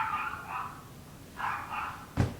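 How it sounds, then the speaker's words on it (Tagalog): A dog barks and yips in a few short bursts, faint and somewhat distant, followed by a sharp knock near the end, with no talking. "Ang ingay ng aso!"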